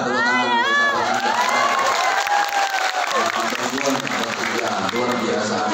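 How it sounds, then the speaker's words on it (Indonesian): Crowd of worshippers at a sholawat gathering in Hong Kong applauding and cheering loudly, with whoops and children's shouts, a sustained dense roar lasting throughout. "tepuk tangan untuk sahabat Anja"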